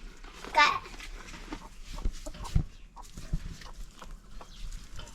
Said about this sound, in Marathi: कोंबड्या आहेत तिकडे कोंबड्या आहेत